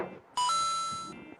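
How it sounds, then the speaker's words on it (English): A phone rings once with a bright electronic chime, a sustained harmonic tone starting with a short higher note and ringing on for most of a second before cutting off, near and loud over quiet room murmur. "my phone is ringing."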